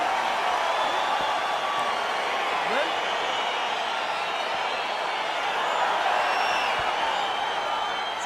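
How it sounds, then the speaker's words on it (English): An arena crowd roars steadily at a UFC fight in the EA Sports UFC 4 video game, a dense and continuous wash of cheering with occasional whoops rising out of it. "crowd getting excited as this fight gets underway"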